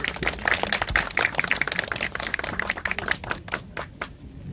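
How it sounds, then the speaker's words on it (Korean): An audience at a youth policy meeting in Masan claps for Lee Jae-myung: dense, close applause of many hands that thins out and fades in the last second. "큰 박수로 이재명 대표님을 모시겠습니다"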